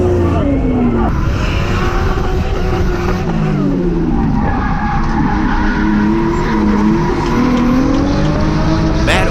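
A Toyota Cressida drift car skids through a drift run at a Nitto drift event, with a loud continuous engine roar rising and falling over sustained tire squeal, close and relentless.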